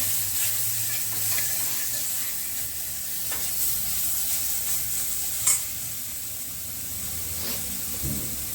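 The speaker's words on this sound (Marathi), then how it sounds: "आता तेल गरम झालं की आपण ह्याच्यामध्ये हा मसाला टाकणार आहे हलवून घेऊया" Spice mix sizzling in hot oil for a bottle gourd dish, a steady hiss and crackle with occasional scraping stirs of a spoon, close and constant.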